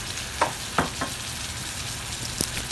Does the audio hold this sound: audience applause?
no